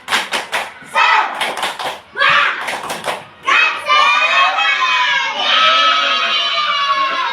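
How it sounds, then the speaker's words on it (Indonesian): A group of children in an Indonesian classroom doing the rhythmic 'tepuk semangat' clap chant, quick bursts of clapping alternating with shouted chanting voices, then a long sustained group shout. "Lagi-lagi tepuk semangat."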